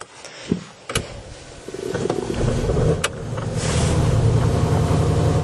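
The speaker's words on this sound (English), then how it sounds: "the engine is running" A 2021 Mercedes-Benz S-Class engine turns over after a few clicks and settles into a low, steady idle, quiet and continuous under faint background noise.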